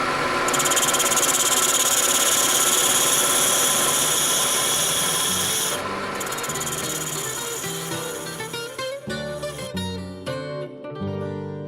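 A wood lathe spins a lightly toasted natural-edge bowl at 1000 RPM, giving a loud, steady whine with a high squeal that shifts partway through and breaks into rougher, choppier cutting noise near the end.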